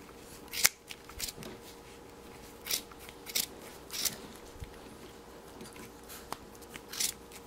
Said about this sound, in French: Je coupe la laine en son centre.